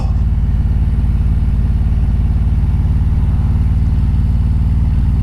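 A Harley-Davidson Road Glide motorcycle engine thrums steadily while riding along Lake Washington Boulevard, a loud, continuous low rumble with a rapid, even pulse and no speech.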